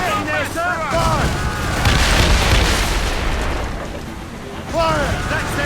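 Ship cannons firing in a naval battle in the video game Assassin's Creed Rogue, loud rumbling booms rolling together amid crew shouting and battle noise.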